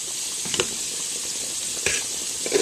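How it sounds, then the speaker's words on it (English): Bacon frying in a pan gives a continuous close, crackly sizzle, with a few small pops and spits rising above the steady hiss; no voices. "Our bacon is cooking very well."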